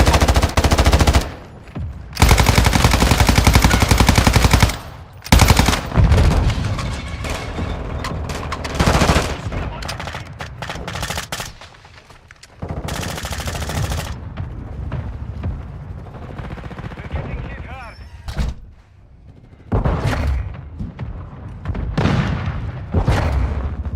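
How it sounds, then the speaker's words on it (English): Mortar strike in Call of Duty: loud, heavy booms and bursts of gunfire crash in repeated waves with short lulls between, the barrage fading and returning across the scene. "Hostiles launched a mortar strike."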